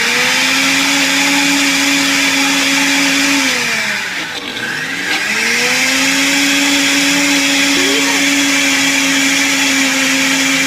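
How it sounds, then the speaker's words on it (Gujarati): A mixer grinder crushes ice cubes for a jamun drink, a loud close whining motor with a rough rattling grind that dips briefly as it slows and then revs back up, with no talk. "એ બરફના ટુકડા એમાં ઉમેરી દઈશું મિક્સરમાં ક્રશ કરી દઈશું"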